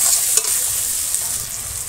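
Onions with garlic paste sizzling and frying in a pan, a close, steady hiss broken by brief scrapes of stirring, with no voices.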